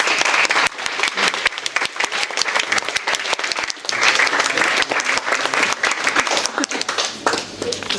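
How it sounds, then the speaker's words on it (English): Wedding reception guests break into brisk, dense applause with sharp individual claps for the event organisers, sustained close and lively across the whole stretch. "I think they deserve a big round of applause"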